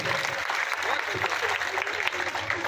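Applause fills the hall at a Shrimad Bhagavat Katha memorial gathering as the family is welcomed, a dense steady clapping from the seated audience that runs unbroken for a few seconds.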